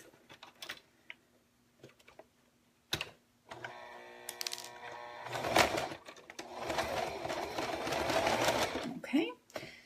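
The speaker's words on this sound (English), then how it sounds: "So then I'm ready to just sew it in place." Sewing machine stitching a paper-pieced snowman quilt block, a few light clicks and handling taps, then a steady motorized whir of rapid stitching rising and running for several seconds before stopping, close up.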